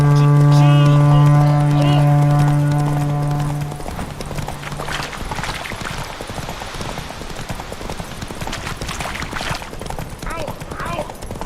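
Roach the horse gallops in The Witcher 3, a steady clip-clop of hooves that starts under a loud low drone and then continues alone and rapid through to the end.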